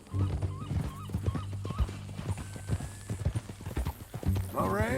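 Horse hooves clip-clopping in Red Dead Redemption 2, a quick regular gait of close hoof strikes under character dialogue and background music, with a brief whinny-like sound near the end.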